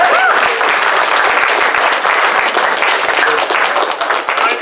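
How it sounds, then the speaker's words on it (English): A loud, dense round of crowd applause fills the whole stretch, many hands clapping at once in a continuous roar of claps, with faint voices mixed under it. "Yeah, round of applause!"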